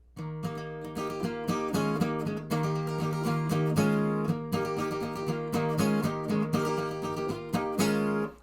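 An acoustic guitar in standard tuning with a capo plays a bright, rhythmic riff up close, with repeated strummed chords and picked notes ringing out steadily.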